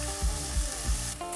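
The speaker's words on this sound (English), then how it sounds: "Saute the shallots, garlic, and ginger for a minute." Shallots, garlic and ginger sauté in grapeseed oil in a pan over medium-high heat. A steady close sizzle runs under three soft stirring scrapes, with a brief brighter hiss near the end.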